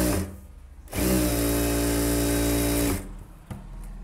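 Sewing machine stitching a 42-inch blouse, one loud steady motor-driven burst of stitching about two seconds long, with quieter handling clicks before and after.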